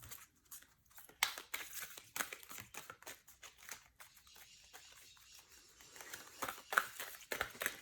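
Quick papery riffles and crisp snaps of cards being shuffled, close by, in short repeated bursts with brief pauses between them.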